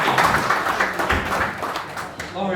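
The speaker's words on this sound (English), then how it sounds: "Round of applause." Audience applause at an awards-style Pride of Ownership Day event, a dense, steady wash of clapping at close range lasting a few seconds, with a brief dip near the end.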